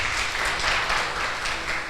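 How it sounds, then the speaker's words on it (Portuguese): An audience applauds a young champion at an entrepreneurship event, a brief, steady patter of clapping at moderate loudness with no voices. "Salva de palmas aí pro campeão"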